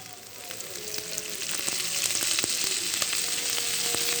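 Fish roe and bitter gourd fry in oil in a pan, producing a soft, hissing sizzle that swells slightly louder over a few seconds, dotted with small crackles.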